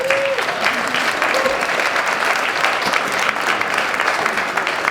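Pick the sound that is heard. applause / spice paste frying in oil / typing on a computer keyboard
applause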